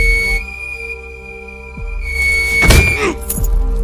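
A sustained high whistle tone sounds steadily, joined by a thump and some clatter near the end.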